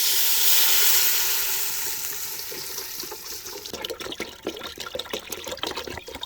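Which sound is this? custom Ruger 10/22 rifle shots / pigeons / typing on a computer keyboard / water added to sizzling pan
water added to sizzling pan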